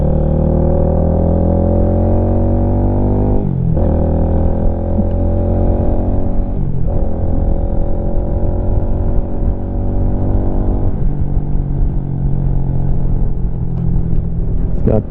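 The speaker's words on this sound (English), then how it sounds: "Got this aftermarket exhaust on it, performance exhaust. It's got a good sound to it." A Lifan KPM 200 motorcycle engine rumbles loudly and deeply through a throaty aftermarket performance exhaust, shifting through gears as it accelerates, with a steady roar throughout.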